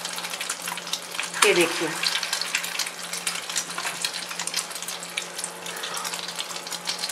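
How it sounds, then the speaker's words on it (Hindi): Chicken shami kebabs shallow fry in a pan over a low flame, giving a soft, steady sizzle with faint crackles throughout, while someone speaks briefly near the start. "और आपने इनको शैलो फ्राई करना है, डीप फ्राई नहीं करना।"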